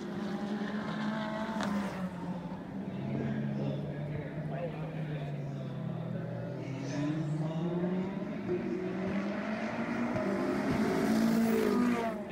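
GT race cars pass beneath a bridge at the Circuit of the Americas, their engines a rising and falling whine heard from a distance, with wind buffeting the microphone.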